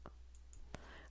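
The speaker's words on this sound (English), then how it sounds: "right click ends the command, right click repeats the command" A few sharp right clicks of a computer mouse while drawing lines in AutoCAD, quiet and close over a low background hum.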